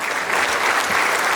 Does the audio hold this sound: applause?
yes